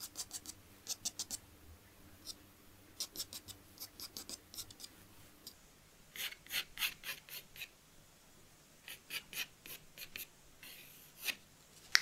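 Pencil scratching and rubbing over paper in short bursts while shadows are marked in for a watercolour fruit painting, close and quiet, with pauses between strokes.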